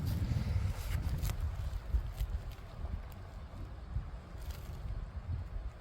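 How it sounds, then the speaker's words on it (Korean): Wind blows steadily outdoors over a pine-planting site on a snowy day, a continuous low rumbling buffet with gusty surges, fairly loud and close to the microphone, with no talking. "오늘 바람이 조금 부네요"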